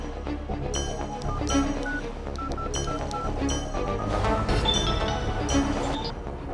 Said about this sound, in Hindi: राठौड़ को फोन लगाओ